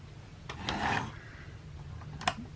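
A small screwdriver tightening a screw, with a couple of short rasping turns and a brief scrape, close and quiet, no talking.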